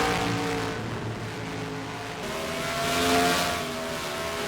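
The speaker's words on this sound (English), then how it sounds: "As now Donuts begins his first lap here at Chicagoland Speedway" A race car laps Chicagoland Speedway during PSRLA Cup Series qualifying, its engine a steady, fairly loud droning whine that swells slightly midway, with no talking.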